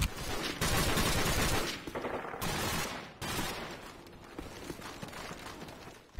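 Gunfire in the Modern Warfare multiplayer video game: dense bursts of shots in a loud opening stretch, a second volley, then quieter scattered game noise, with no talk over it.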